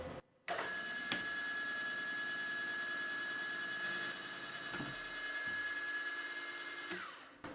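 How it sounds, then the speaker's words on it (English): A compact rotary broach spins at 1000 RPM in a machine, giving a steady, loud motor whine with a sustained high tone. A few light knocks come through as pressure goes on the quill, and the run winds down near the end. "Then we turn on the machine. I have it set to 1000 RPM."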